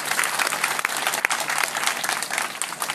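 Audience applause at a political gathering in Côte d'Ivoire, a loud, dense, continuous patter of many hands clapping throughout, close and unbroken.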